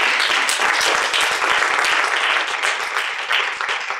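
A museum lecture audience applauds to welcome a speaker. The clapping is steady and sustained, fills the room and comes through clearly with no talk over it.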